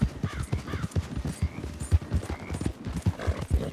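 Horse hooves in Red Dead Redemption 2 clop in a steady trotting rhythm, fairly quiet, with faint snorts mixed in and no talking.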